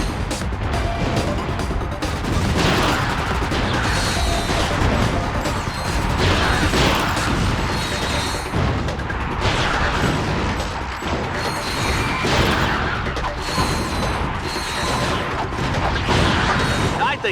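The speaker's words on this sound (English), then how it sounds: "explosions are pretty." Dense, continuous crashing and booming with rattling mechanical bursts, loud throughout with no pauses, like a barrage of explosions in the video game Ratchet: Deadlocked.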